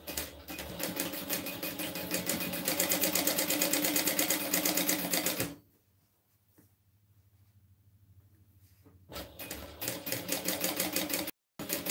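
A sewing machine stitches fabric for a car trash can, running in a fast, steady, loud mechanical burst, stopping for a few seconds of near silence, then starting again in shorter runs.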